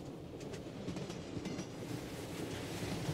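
A subway train runs with a steady rumbling roar and faint rhythmic clatter of wheels on track, continuous and close, with no talking.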